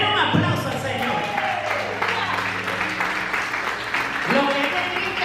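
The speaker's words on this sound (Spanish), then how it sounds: "Denle un aplauso al Señor." A church congregation applauds together in a steady, dense wash of clapping that runs throughout, with voices and background music continuing underneath.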